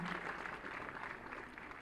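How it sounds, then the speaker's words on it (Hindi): Crowd at a student award ceremony applauds, a dense, even wash of clapping heard at a distance and fairly faint, lasting briefly without a break. "इन छात्राओं की उत्साहवर्धन के लिए आपकी तालियां जोरदार बहुत ज़रूरी है"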